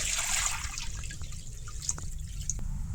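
Water goes into a cooking pot while masala noodles are being made, giving faint splashes and a few distinct drips over a low background hum.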